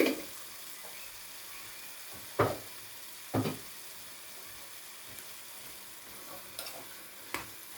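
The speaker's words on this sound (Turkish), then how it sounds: "Bundan da bir yemek kaşığı koyuyorum. Hem domates hem biber. Bu da kavrulsun." Tomato and pepper paste sizzling in a pan, a steady soft frying hiss with a few louder scraping stirs of a spoon against the pan at irregular intervals.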